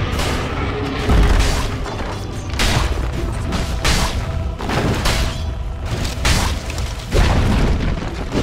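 A tower crashes down in a Dota 2 match, a series of loud, heavy booms and rumbling blasts rolling across the whole stretch with dense game noise beneath.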